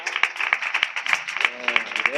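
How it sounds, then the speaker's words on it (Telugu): A church congregation at a Sunday worship service clapping in a quick, uneven rhythm, sharp nearby claps with a voice briefly heard over them. "ఏ కొద్ది చప్పట్లు కొట్టాలనిపించట్లేదా?"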